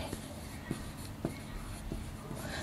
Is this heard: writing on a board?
yes